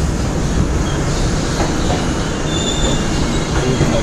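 A Chambal Express passenger train runs at speed with a loud, continuous rumble of wheels and carriage noise, faint squeals riding on top, heard close from aboard.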